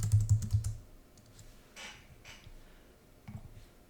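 Keys tapped on a computer keyboard while entering TSM price source settings, a few quiet clicks early on, then sparse faint taps with long pauses between.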